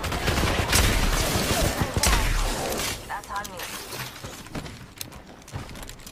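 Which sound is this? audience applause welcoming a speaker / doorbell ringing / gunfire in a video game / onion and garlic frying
gunfire in a video game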